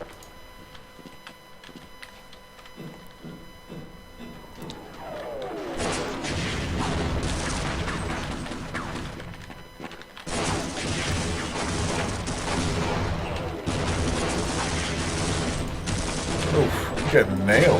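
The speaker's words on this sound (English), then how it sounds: "Your grenade misses, mine doesn't." Half-Life combat: a rising whine gives way to a heavy grenade blast, and after a short break a dense, continuous stretch of gunfire and explosions follows, loud and sustained.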